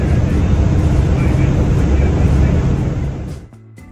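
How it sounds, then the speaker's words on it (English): A UK hovercraft ferry on its crossing roars loudly with a dense, even engine and spray noise close by, then drops away sharply near the end. "Riding the hovercraft is an unusual experience. It's furiously loud and a very bumpy crossing"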